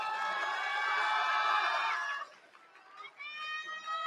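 A crowd at the Kishiwada keirin velodrome shouts and cheers after the Takamatsunomiya Kinen Cup G1 final, a loud sustained roar that dips briefly and then swells again.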